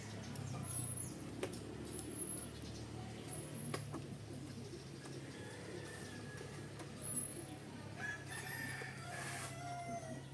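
A rooster crows in the distance over a low, steady background hum, with faint clucking and other bird calls.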